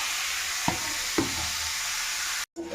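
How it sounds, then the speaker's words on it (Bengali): Grated carrots sizzle in ghee in a wok, a steady frying hiss punctuated by two scraping stirs, then a brief drop to silence before the sizzle resumes. "কড়াইয়ে একটু ঘি দিয়েছি, গাজরগুলো দিয়ে দেবো ঘিয়ের মধ্যে।"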